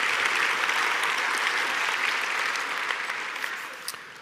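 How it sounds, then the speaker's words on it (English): A large audience applauds at a tribute event, a dense even wash of clapping that holds steady and slowly fades toward the end, with no speech over it. "You can applaud for that."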